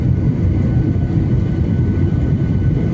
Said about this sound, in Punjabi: ਲੋ ਜੀ ਆ ਖੜਿਆ ਜਹਾਜ਼ ਕਰੋ ਚੈੱਕ ਕਰੋ ਚੈੱਕ ਹੁਣ ਲੱਗਾ ਸਾਡਾ ਜੀ ਅੱਜ ਲੈਂਡ ਹੋਣ